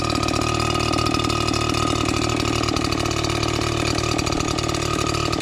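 A pull-started leaf blower engine runs steadily and loudly throughout, with a constant droning hum and no pauses.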